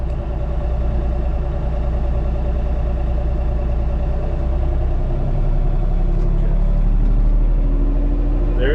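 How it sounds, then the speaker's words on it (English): An LS MT232 tractor's diesel engine runs steadily, its low throbbing hum rising and thickening as it throttles up toward the end, continuous and fairly loud with no talk over it. "Okay, now it should throttle up"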